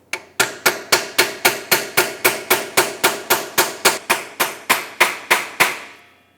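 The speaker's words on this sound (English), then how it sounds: "Hammer it in." Steady series of about twenty sharp metallic hammer blows driving a wheel seal and bearing installer into the rear axle tube of a 1978-1987 Chevrolet El Camino, each strike ringing briefly, evenly paced and close.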